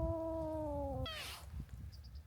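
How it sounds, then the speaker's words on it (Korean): A kitten in a rice field gives a few loud, close meows, the first a long, steady, drawn-out cry and the next a short, rising squeak, over faint outdoor background noise. "이게 무슨 소리죠? 벼에 왜 고양이가 있어?"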